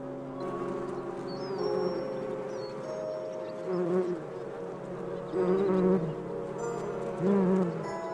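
Bees buzzing around olive trees in an African forest, a continuous droning hum with several insects swelling louder as they pass close, then fading back.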